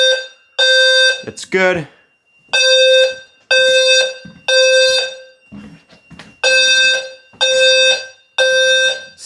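A smoke detector in a primary bedroom sounds during a fire alarm system test, emitting loud, piercing beeps in repeated evenly spaced bursts; a person speaks briefly between them.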